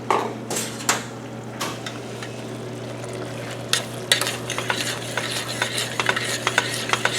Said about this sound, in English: So I'm just going to keep stirring right until it gets to the consistency I want.